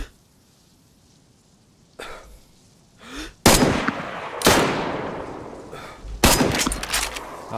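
Several loud gunshots ring out in the DayZ survival game, a single blast followed by two more spaced a second or so apart and then a final one, each with a sharp crack and a lingering tail after a quiet start.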